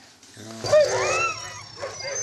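Sled dogs harnessed for a winter run near Lake Louise, Canada give eager whines and whimpers rising into a short yelping bark. The voices are close and excited, over faint background noise.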